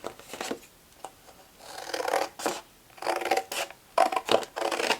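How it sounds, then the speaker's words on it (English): Scissors slice through a folded cardboard cereal box in a string of short, close, crisp snips and rasping cuts separated by brief pauses, with no talking. "fold her in half, make a guideline, and then cut on that guideline."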